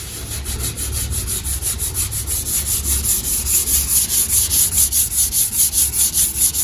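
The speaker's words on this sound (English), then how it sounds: "So he's sanding this thing up real nice." Steady rhythmic sanding strokes on the body of a GMC Sierra 1500 pickup truck during prep before painting, close and fairly loud with a repeating back-and-forth scrub.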